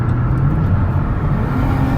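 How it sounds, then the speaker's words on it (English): A 2015 Dodge Caravan SE wheelchair mobility van on a test drive at speed, a steady in-cabin engine and road rumble, broadband and constant, fairly loud with no speech. "test drive so you can hear the engine run, feel the transmission shift through all the gears"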